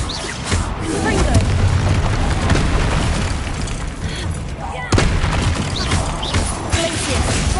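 Repeated Confringo blasting spells in Hogwarts Legacy combat: dense, continuous booms and crackling impacts layered with other spell effects, with a sharp fresh blast partway through.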